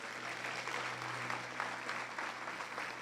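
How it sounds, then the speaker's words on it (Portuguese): Church congregation claps during an evening service, a moderately quiet, continuous patter of many hands with a low steady hum beneath and no one speaking over it. "Aplauda o Senhor nessa noite."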